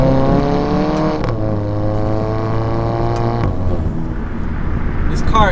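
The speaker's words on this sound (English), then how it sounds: "I don't know if I've done like a proper exhaust clip." A Mazda Miata NC with an aftermarket exhaust revs up and settles back, its engine note rising and falling loudly and close throughout, with no talk over it.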